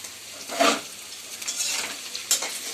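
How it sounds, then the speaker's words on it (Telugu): Ivy gourd (tindora) fries in oil in a pan, a close, continuous sizzle broken by a few scraping stirs with a spatula, with no talking over it. "నేను ఇక్కడ దొండకాయ ఫ్రై చేస్తాను చూడండి."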